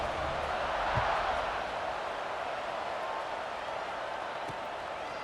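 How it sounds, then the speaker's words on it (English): Steady stadium crowd buzz from the College Football 26 video game after a score, a dense, continuous roar that swells slightly early, then holds level with no distinct cheers. "this crowd is buzzing after that last score"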